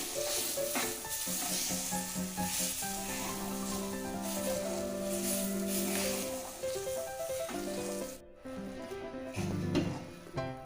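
Spice mixture with roasted five-spice powder sizzling as it goes into a hot kadai while dhokar dalna cooks, a steady loud frying hiss under music, cutting out briefly near the end.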